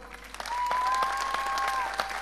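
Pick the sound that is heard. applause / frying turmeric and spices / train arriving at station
applause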